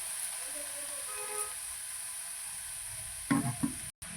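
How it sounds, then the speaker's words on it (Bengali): Water is poured onto banana flower in a hot frying pan; a steady sizzle and hiss builds into a sudden louder splash of bubbling near the end. "জল দিয়ে দিলাম।"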